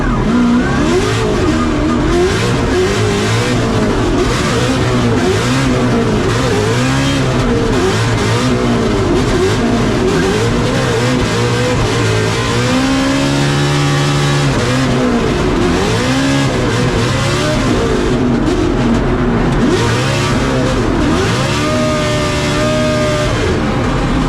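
Ford and BMW drift cars battling at a Formula Drift event in St. Louis, engines screaming and revving hard with rising and falling pitch, loud and continuous throughout with possible tire squeal.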